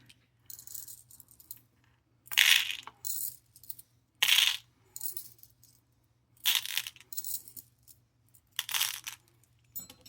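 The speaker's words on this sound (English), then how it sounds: "unintentional ASMR, putting the beads in the box" Plastic craft beads scooped and poured into a storage box, landing in several separate bursts of bright rattling clatter separated by short pauses, close up and fairly quiet, with no talking.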